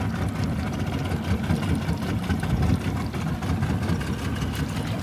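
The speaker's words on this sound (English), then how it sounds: "That's her idling. Well, just in gear at the moment." A 2-stroke outboard motor idles in gear, a steady low, throbbing burble with a slight uneven pulse, close and continuous with no talk over it.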